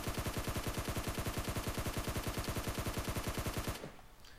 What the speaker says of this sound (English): I'm going to put 40 bullets into this while prone.